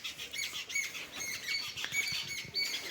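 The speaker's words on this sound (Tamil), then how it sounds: "நல்ல சவுண்டு கீச் கீச் குருவிங்க" Small birds chirp and squawk in quick, overlapping bursts near a trekking trail at a hill resort in Panrimalai, lively and fairly close, with no voices.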